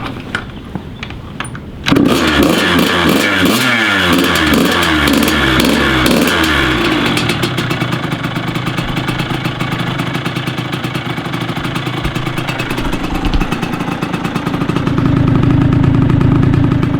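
A small dirt bike engine catches on a single kick after a brief quiet moment, then settles into a steady, loud, close idle with a fast irregular thump that runs on to the end.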